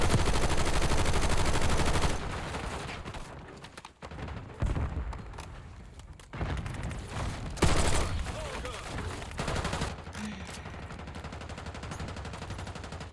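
Sustained automatic gunfire in a shooter video game, close and loud, rattles in dense bursts broken by short pauses before resuming at a slightly lower level.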